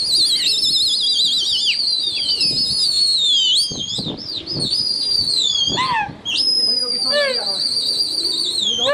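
Pigeons in a rooftop flock fly close by with flapping wings, mixed with loud, sweeping whistles and chirps throughout, while wind blows and a person talks in the background.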